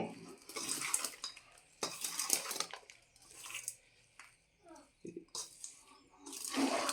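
A spoon scrapes and clatters against a metal vessel while gongura pulihora, tamarind rice with sorrel leaves, gets mixed in irregular close bursts of clinks and rustles separated by short pauses, with no talk.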